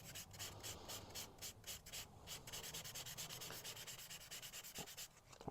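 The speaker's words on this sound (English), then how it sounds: "so just regular sanding." Sandpaper rubs back and forth across paper in quick, regular scratchy strokes, close and fairly quiet, with a faint tap near the end.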